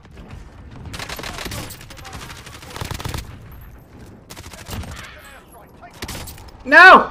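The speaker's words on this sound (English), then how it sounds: "Oh, oh, oh, I'm getting shot." Several bursts of rapid automatic gunfire in Warzone rattle in quick succession, and a short shout cuts in at the end.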